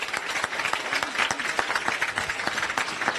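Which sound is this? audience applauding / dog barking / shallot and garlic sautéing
audience applauding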